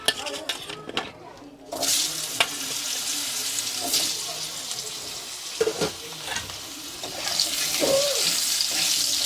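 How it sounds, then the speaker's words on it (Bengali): Potatoes fry in oil left over from frying brinjal in a village kitchen, a continuous sizzle broken by clinks and scrapes of stirring, close and fairly loud, with no talk. "আর ওই তেলে আলুগুলো ভেজে নেব।"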